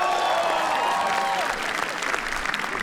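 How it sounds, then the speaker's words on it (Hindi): Audience applause at a comedy roast battle, dense and steady for about three seconds, with a lingering musical tone fading in the first half and faint crowd murmur beneath. "श्रेया प्रेम रॉय के लिए तालियां प्लीज।"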